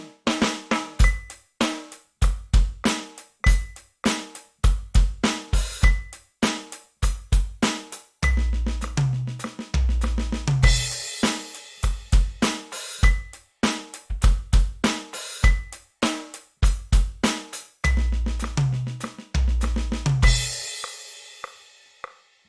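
A drum fill rolls steadily across toms, punctuated by deep kick hits and crashing cymbals, loud and close with no talking.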